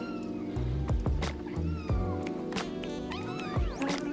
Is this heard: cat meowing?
yes